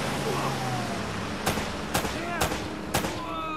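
Four sharp, evenly spaced gunshots crack out over a steady background rumble during a firefight in Uncharted: Drake's Fortune on PS3, each shot loud and close.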